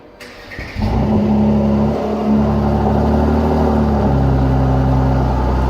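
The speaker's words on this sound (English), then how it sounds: "And that is because of this amazing exhaust." A Mercedes C43 AMG with a performance exhaust fires up with a sharp bark, then settles into a loud, sustained rumbling rev that swells and holds steady close by, with no talking.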